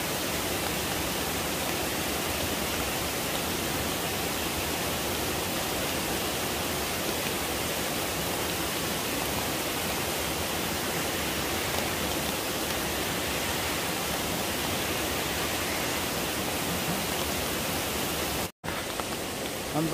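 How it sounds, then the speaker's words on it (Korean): Seryeom waterfall in a forested valley near Guryongsa temple pours in a steady, loud, broadband roar of falling water that fills the whole stretch without pause, ending with a brief click near the end. "폭포입니다"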